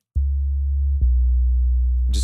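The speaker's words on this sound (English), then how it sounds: "this is a very simple, just one oscillator set to a sine wave" Pure sine-wave synth sub bass from a single oscillator sustains two deep steady notes, with a brief soft onset click at each note change and a hiss-like burst at the end, loud and alone with no voices.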